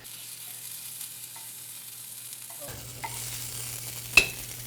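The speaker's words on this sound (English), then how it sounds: "And then I'm going to fry it in a frying pan with a little bit of olive oil" Chile ancho meatballs start frying in a little olive oil in a frying pan, a soft hiss rising into steady close sizzling with a sharp crackle near the end, no talking.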